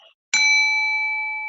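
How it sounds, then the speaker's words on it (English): A single bell struck once during an online meeting, ringing with a clear sharp onset, then a long, steady, sustained tone that slowly fades, heard alone and fairly loud. "I do the bell"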